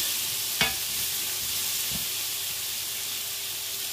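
Onions fry in a pan with a constant bright hiss of sizzling, broken by a couple of light clinks or stirs early on, with no voices.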